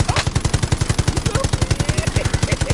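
Rapid automatic gunfire in the Warzone video game, a steady rhythmic burst of evenly spaced shots running the whole time, loud and close, with faint voices under it.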